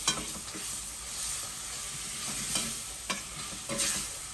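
Thyme and four-spice seasoning fry in hot oil in a pot for a Réunion herring rougail, hissing with a steady sizzle and punctuated by a few scraping stirs of a spoon.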